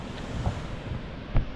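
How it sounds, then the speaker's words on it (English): River water rushes steadily at the top of the Sipi waterfalls in Uganda, a dense, close roar buffeted by a little wind noise on the microphone. "This is the water that forms every waterfall that you have seen."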